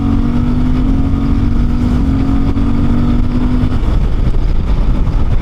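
A Suzuki GSX-8R motorcycle accelerates, its engine drone rising in pitch through a steady climb before a gear change, loud and continuous with heavy wind rumble throughout.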